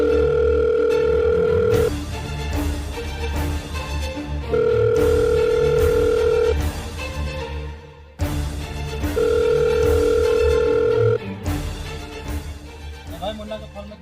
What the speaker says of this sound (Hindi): भाई मुन्ना के फोन में किसी अंदर आदमी का फोन आया।